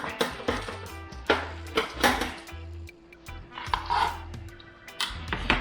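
Several sharp chops of a large Dexter knife cutting jerk chicken against a cutting board, irregular and close, mixed with clattering kitchen sounds.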